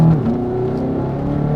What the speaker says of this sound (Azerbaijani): Hələ bu komfortda belə qəşəng gedir bu avtomobil.